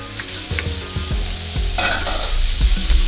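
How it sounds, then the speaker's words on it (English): Turkey sausage and shrimp frying in a pan, a loud close sizzle running throughout with repeated low thuds and scrapes of stirring, a brighter burst of crackling midway, no speech. "I'm gonna put in the turkey sausage"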